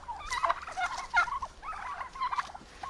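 Turkeys gobble in a village yard in autumn, with several close, loud, rapid warbling bursts repeating back to back throughout.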